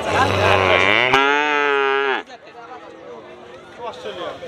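A heifer at the Sharat Nagar livestock market in Bhangura gives a loud, close, drawn-out moo lasting about two seconds, followed by the low murmur of a crowd and scattered voices.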